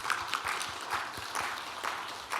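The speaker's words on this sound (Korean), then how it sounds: "일어나실 때에 힘차게 우리 박수로 환영하도록 하겠습니다" A church congregation claps to welcome a newcomer during Sunday worship, a soft, distant patter of many hands with a faint rhythmic pulse.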